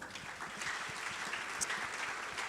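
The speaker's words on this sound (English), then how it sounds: "So, another round of applause for them." Sustained audience applause at a data science summit, even clapping from a crowd heard at a moderate distance and holding a steady level throughout.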